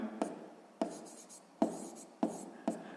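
A pencil writes on paper during a sixth-grade math exercise, with five short, faint scratching strokes spaced unevenly across a quiet background.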